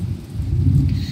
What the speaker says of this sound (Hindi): और यहाँ तो बहुत तेज़ बारिश हो रही है